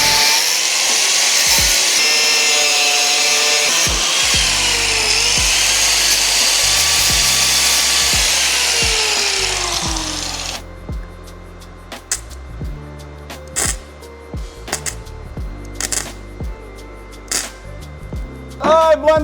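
A 1997 Hyundai Coupe shifter being cut, a loud, steady high-pitched grinding whine of a metal cutter for about ten seconds, followed by scattered knocks, taps and short bursts of work noise, close up.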